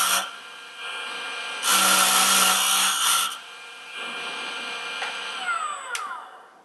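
Jooltool X system spinning a 3M radial bristle brush at high speed against a workpiece: a steady motorized whir that swells louder for a couple of seconds, then settles back, with faint scraping near the end.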